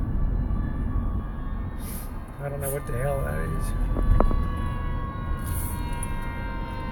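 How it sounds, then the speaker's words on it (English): An ambulance siren passes along the street near Bourbon Street in New Orleans, an odd wavering, warbling wail rising over steady wind and city noise while a person talks. "It's an ambulance coming by. Sounds like the weirdest one I've ever heard."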